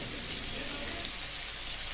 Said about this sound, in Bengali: আদা, টমেটো সব কিছু এখানে সুন্দরভাবে ফ্রাই হচ্ছে